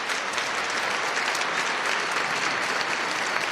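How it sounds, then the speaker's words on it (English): A crowd bursts into steady, dense applause for the Chicago Cubs after their World Series win ending baseball's longest championship drought, the clapping sustained and even throughout with no voices on top. "Round of applause for the Cubs."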